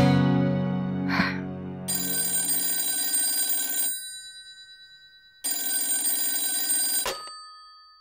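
A home landline telephone rings with an electronic bell tone in two long bursts separated by a silent pause, loud and alone, with no one talking.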